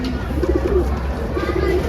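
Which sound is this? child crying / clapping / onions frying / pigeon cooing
pigeon cooing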